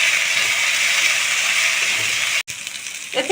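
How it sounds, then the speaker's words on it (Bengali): Katla fish curry with potatoes cooking in a pan as turmeric and salt are stirred in: a steady, bright sizzle of frying oil, fairly loud and continuous, with a brief scrape of stirring near the end. "এখন আমি দিয়ে দেব 1 চামচ হলুদ, 1 চামচ লবণ। এগুলো দিয়ে আমি একটু নেড়ে নেব।"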